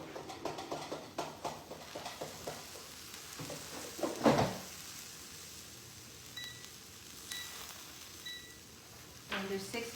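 Smash burger patties cook in a pan with a soft, low sizzle beneath scattered utensil clatter and taps, while people talk quietly nearby.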